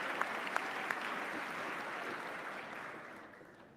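Audience applause and cheering at the Massachusetts State of the Commonwealth address, a broad hall full of clapping with a few sharp individual claps early on, holding steady and then slowly fading away.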